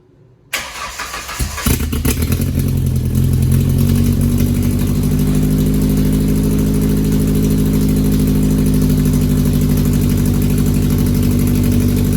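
A Ford Ranger SST with a Cherry Bomb exhaust cranks over briefly, fires up, and settles into a loud, deep, steady rumbling idle close by.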